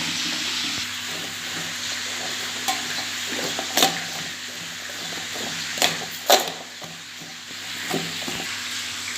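Onion being stirred into a sizzling sauce in a pan, a continuous hiss of frying with a few louder scraping strokes from the stirring, close and steady.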